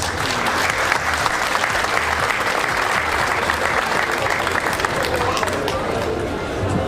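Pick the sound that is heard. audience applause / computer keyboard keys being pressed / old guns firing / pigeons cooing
audience applause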